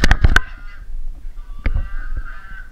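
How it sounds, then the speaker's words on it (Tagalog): Geese give a quick burst of loud, close honks, then a couple of fainter, scattered honks with low rustling in between, on a mountainside in Malico, Pangasinan. "paingin ng mga gansa"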